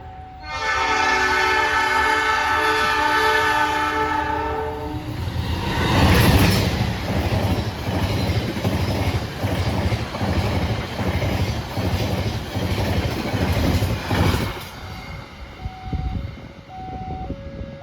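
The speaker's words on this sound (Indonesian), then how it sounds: "ini adalah kereta api Argo Wilis teman-teman" The Argo Wilis passenger train sounds a long, loud multi-tone horn for about five seconds, then rumbles past close by with rapid rhythmic wheel clatter for roughly ten seconds before fading, followed by faint short tones.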